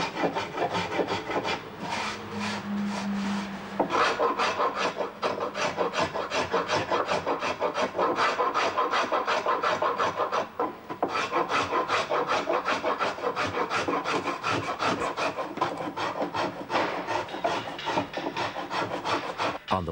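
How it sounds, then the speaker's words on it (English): Hand planing the wooden upper surface of an Empacher racing shell, continuous rasping strokes in a quick steady rhythm, close and loud, with a brief lull near the start and another midway, no talking. "The upper surface is formed on the machine and finally planed by hand."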